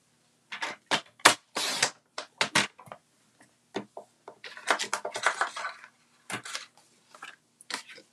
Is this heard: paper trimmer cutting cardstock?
yes